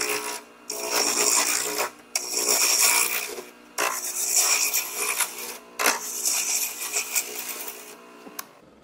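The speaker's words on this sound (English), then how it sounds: "Now I'm going to start a cut pulling toward the headstock, more of a pulling cut going down." Wood turning on a lathe, a gouge making pulling cuts toward the headstock in East Indian rosewood, purpleheart and cherry: loud, close rasping bursts of shaving, repeated in several passes with short gaps between.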